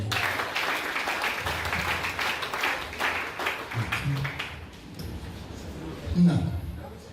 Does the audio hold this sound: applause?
yes